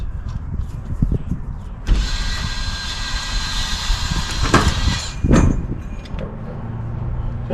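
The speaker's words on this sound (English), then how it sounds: "You take the nut and you back it off" On a roadside repair, a wheel bearing nut on a trailer is backed off until loose, making a sustained grinding, whirring mechanical noise broken by a few sharp metallic knocks, close up and without talk.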